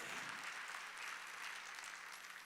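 A church congregation claps together during a Wednesday worship service, a dense, steady wash of applause filling the room from start to finish with no voices standing out.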